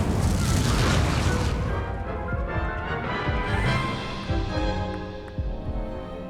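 Incendio fire spell cast in the Hogwarts Legacy video game, a loud whooshing, booming burst of flame that rumbles and crackles continuously for several seconds, tapering only slightly toward the end.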